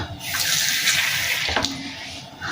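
Water runs from a tap into a bowl holding one egg, a steady close splashing stream that thins and briefly breaks partway through, with no talk over it.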